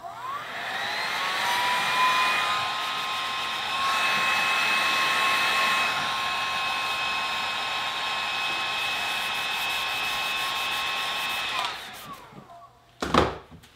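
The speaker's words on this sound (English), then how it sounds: "you can heat it up again with the heat gun" A heat gun blows steadily on wood filler in cedar trim, a loud, even whooshing hum with a faint whine that runs for about twelve seconds, then cuts off, followed by a couple of brief clunks.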